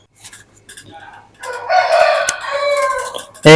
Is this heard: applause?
no